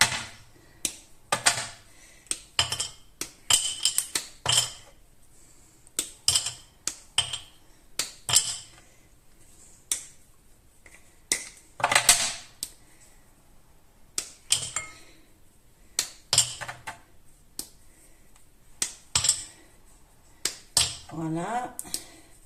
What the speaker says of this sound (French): casser le chocolat noir en morceaux